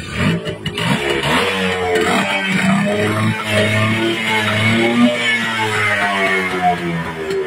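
An overhauled Honda HD3 two-stroke motorcycle engine runs steadily close by, with its idle rising and falling in smooth revving swells and no talk over it.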